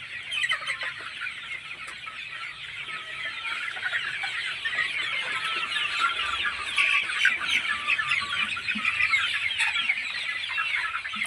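Kadaknath chickens in a rooftop coop cluck steadily, a dense continuous chatter of many birds at moderate volume, close by, with no voices over it.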